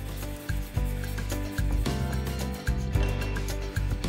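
Fresh ginger, 10 g of it, rubbed against a grater for a wild boar stew, giving repeated rasping scrapes in an uneven rhythm, close and fairly loud with no talking.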